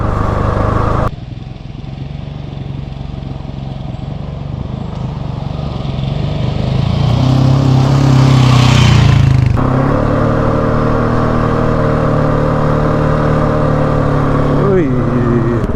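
Husqvarna 701 Enduro motorcycle descending a mountain dirt track, a steady close engine drone that swells and shifts pitch midway, with wind rumble throughout.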